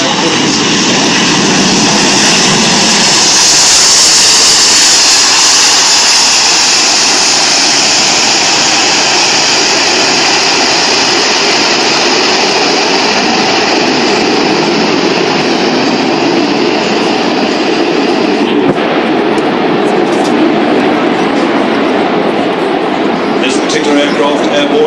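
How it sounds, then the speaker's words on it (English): Airbus A400M military airlifter and A380 airliner flying at the Farnborough air show, a loud continuous broadband engine roar sustained throughout, shifting slightly in pitch, with a commentator speaking over it. "you're going to see a very agile flight display by the A400M as the 380 touches down"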